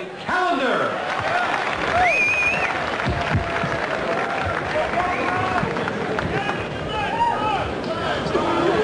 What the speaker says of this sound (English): a nice round of applause for Roy Callender